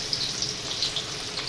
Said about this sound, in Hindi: तो ये पियाज पकईदे तेल रे